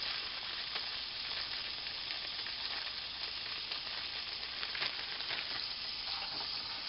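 Frozen onions, celery, green and red peppers sizzle steadily in a hot pan, a constant bright crackling hiss with faint stirring scrapes and no voices.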